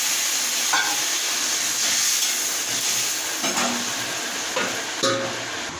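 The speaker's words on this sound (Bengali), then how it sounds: "এরপর আমি এটা সামান্য জল দিয়ে এটা আমি মিশিয়ে দেবো।" Soybean curry stirred in a pot after a little water is added, a steady hiss of steam and simmering with a few spoon scrapes and knocks, no talk.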